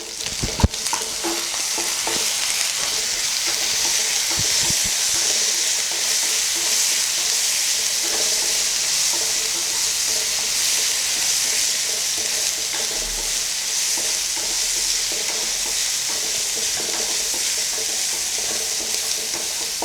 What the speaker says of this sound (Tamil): சாம்பார் வெங்காயத்து கூட கொஞ்சமாக இஞ்சி பூண்டு பேஸ்ட் போட்டு இது நல்லா வதக்கிடலாம்